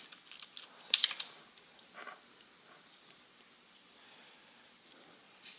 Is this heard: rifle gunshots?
no